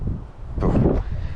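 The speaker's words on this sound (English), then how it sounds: "It's a bit windy, so see how it goes." Wind gusts buffet the microphone at a goat farm, a steady low rumble that swells into a louder, broader rush midway, then settles.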